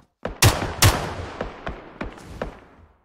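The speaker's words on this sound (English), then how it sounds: "Someone shot a bullet." Gunshots in a multiplayer shooter video game: two loud sharp reports close together, then several fainter shots echoing at a distance.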